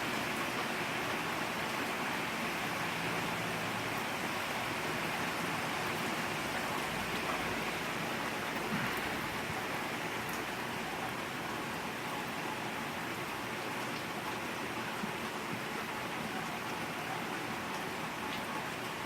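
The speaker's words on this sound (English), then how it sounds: "I love it when it rains." Steady rain falls during a storm, a dense even hiss of drops on surfaces that stays constant and moderately quiet throughout, with no voices.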